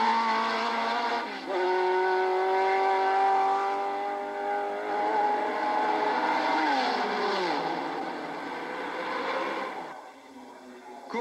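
Porsche race cars battling for the lead at the 1986 Le Mans 24 Hours, engines screaming loud and near as they pass, pitch swooping down with a tire squeal near the end before fading.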